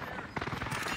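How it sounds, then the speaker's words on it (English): Airstrike explosions in a multiplayer shooter game go off as a rapid string of dense, close bursts under game chatter and background noise. "Enemy precision airstrike."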